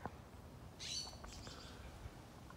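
A wild bird gives a brief, faint, high chirping call outdoors in Africa, one short burst with a few softer notes trailing after it.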